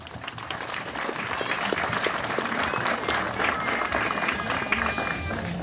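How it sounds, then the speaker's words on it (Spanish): Enthusiastic audience applause at a school event welcoming a speaker, a crowd of many hands clapping loudly and continuously, with distinct individual claps standing out and faint crowd murmur underneath. "Recibámosle con fuertes aplausos."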